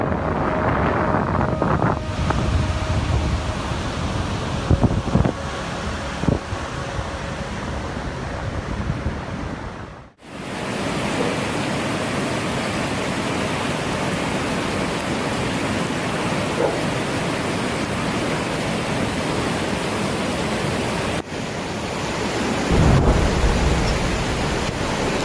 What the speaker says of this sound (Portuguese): Nestas imagens, vemos o rompimento de uma barragem no Texas.